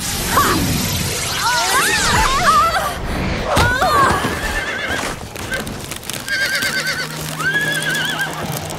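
A horse in the Winx Club cartoon neighs and whinnies loudly several times, mixed with clip-clop hoofbeats, whooshes and crashes from the action.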